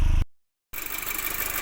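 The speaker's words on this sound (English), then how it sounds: "the cold start's over and the engine is barely moving" An MK2 Audi TT engine idles smoothly just after a cold start, following an injector service, a close, steady low hum broken by a brief cut of silence before resuming.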